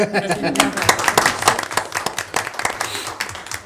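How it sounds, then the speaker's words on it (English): A room full of people claps steadily in applause, scattered sharp claps building into a dense patter, with voices mixed in. "That deserves applause."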